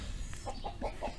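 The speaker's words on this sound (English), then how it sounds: "very expressive rooster who's making a fuss out of something" An agitated rooster makes a fuss with a quick run of four short, clucking calls at close range.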